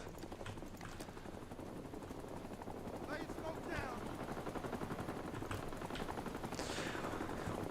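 Sustained machine-gun and rifle fire from a Rising Storm 2: Vietnam battle, with dense, steady bursts rattling continuously at mid distance and a few sharper nearby shots cutting through the din.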